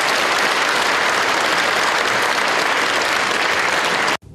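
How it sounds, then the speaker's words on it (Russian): Stormy audience applause sends a singer off at the end of a concert, loud and dense continuous clapping that cuts off abruptly near the end. "провожала певицу бурными аплодисментами"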